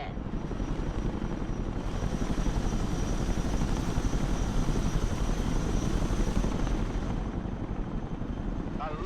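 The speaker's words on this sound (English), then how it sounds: "The Chinook can come up here." A Chinook helicopter in the video game Broken Arrow gives off a continuous rotor and engine drone that swells slightly in the middle, against a broad rumbling battle backdrop.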